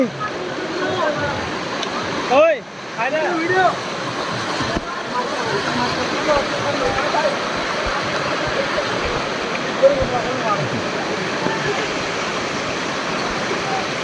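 Khoiyachara waterfall stream in Sitakunda flows in a steady, dense rush of water that fills the scene continuously, with a brief splash or movement near the start.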